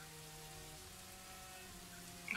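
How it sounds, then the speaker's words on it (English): Steady soft rain hiss in the Dwarf Fortress video game, a continuous even wash of falling rain under a quiet musical drone, with no voices. "Oh no, it's raining."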